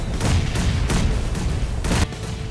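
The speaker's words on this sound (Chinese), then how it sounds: "手雷爆炸声不断" Grenades going off in a video game during a 72-player tower defense match, with grenades and molotovs thrown to stop enemies amid heavy smoke; a steady barrage of dense, rumbling blasts with several sharp bursts, the last one cut off abruptly.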